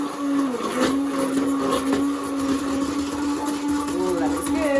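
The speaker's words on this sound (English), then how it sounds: "Actually, this hand blender works just as well." A steady high-pitched motor whine from a hand blender puréeing cauliflower and almond soup runs throughout, shifting slightly in pitch as it works, close and fairly loud.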